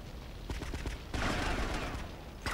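Gunfire in GTA Vice City Stories: a few quick shots followed by a dense burst of rapid firing, heard fairly close and alone.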